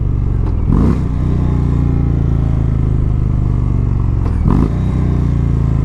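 A 2017 Indian Springfield bagger motorcycle rumbling steadily while being ridden, its low engine drone constant and close, with two brief rushing swells like passing wind or traffic.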